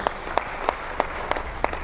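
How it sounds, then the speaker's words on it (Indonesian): A church congregation claps for Jesus during a sermon, a brief burst of evenly spaced rhythmic hand claps, about three per second, over a low crowd murmur. "Tepuk tangan dulu buat Tuhan Yesus"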